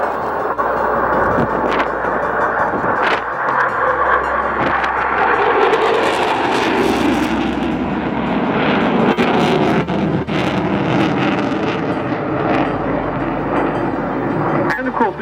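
A Eurofighter Typhoon jet at the Cosford airshow produces a loud, sustained roar that rises and sweeps across as it passes, mixed with wind buffeting and a public-address commentator talking throughout.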